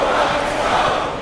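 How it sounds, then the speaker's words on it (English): Crowd noise in a basketball arena for a simulated North Carolina at Iowa game on New Year's Eve, a steady broad roar of cheering that holds at even loudness throughout. "This Iowa crowd's getting going"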